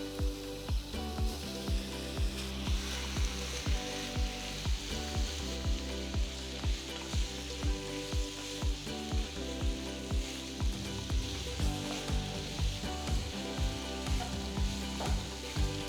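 Marinated boneless chicken frying in ghee in a pan gives a continuous crackling sizzle, with regular rhythmic scraping strokes of stirring throughout and no voices.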